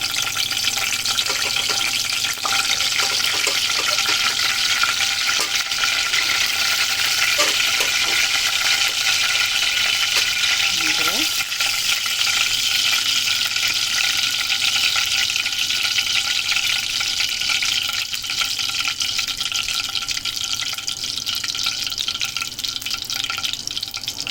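Whole spices fry in hot oil for chicken curry, a loud, continuous crackling sizzle with faint stirring clatter now and then, no voices.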